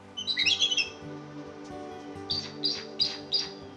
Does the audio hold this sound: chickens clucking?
no